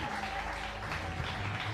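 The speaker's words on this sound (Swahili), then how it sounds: "Ongeza makofi kwa Yesu Kristo." Church worshippers at a seminar applaud for Jesus Christ, a soft, continuous wash of clapping heard from a distance over low, lingering keyboard tones.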